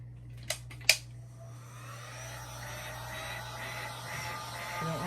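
A heat gun blows in a steady whooshing drone over an alcohol ink tumbler, rising slightly toward the end, with two sharp clicks as it switches on.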